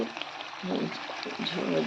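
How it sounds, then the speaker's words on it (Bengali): Steady sizzling and frying of meat in a pan with occasional stirring scrapes, fairly close, no talking. "দেখো আমি এখন মাংস কষাচ্ছি"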